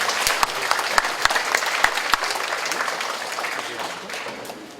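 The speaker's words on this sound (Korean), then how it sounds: "여러분 뜨거운 박수로 환영해 주시죠." Audience at a union members' briefing applauding to welcome the union chairman, dense clapping with sharp individual claps near the start that gradually thins and fades toward the end.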